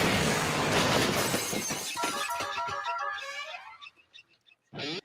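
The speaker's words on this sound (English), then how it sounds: "I heard some broken glass in there." Glass shatters in a comedy TV episode about school bullying, a dense burst of breaking and crashing that thins into scattered tinkling shards, followed by a short loud clatter near the end.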